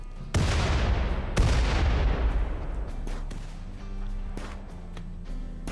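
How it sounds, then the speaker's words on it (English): Two loud booming blasts from grenades in a game, each followed by a long rumbling decay, then a scatter of sharper, smaller pops and bangs trailing off. "That's a lot of friggin' grenades."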